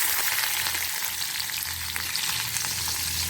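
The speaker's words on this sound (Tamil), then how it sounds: "இப்போ பொரியட்டும்." Mustard seeds fry in hot oil for a karamani kulambu, a steady close crackle and sizzle with fine popping throughout and no talk.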